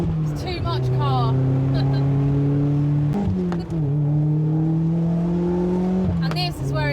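A Lotus Exige engine pulls hard through a corner, a loud, steady close-up drone that climbs in pitch with brief dips as the revs shift, with a voice talking over it.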